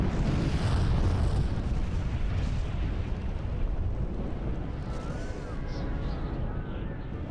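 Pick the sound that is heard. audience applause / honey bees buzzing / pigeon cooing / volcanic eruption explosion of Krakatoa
volcanic eruption explosion of Krakatoa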